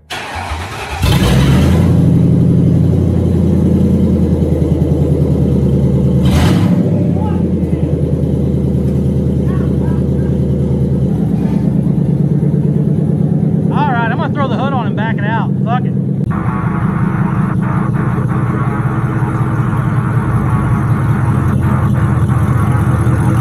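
A cheap home-built hot rod's engine cranks and catches, then settles into a loud, rough, steady idle with occasional revving, close by for the whole stretch, with a voice speaking briefly over it.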